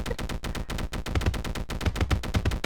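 An incendiary shotgun firing in a video game: loud shots follow one another in a fast, steady rhythm, with heavy low thumps and no pauses.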